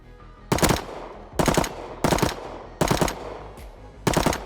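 Gunfire in the video game Rust comes in five loud, close bursts of rapid shots separated by short pauses, with no talk.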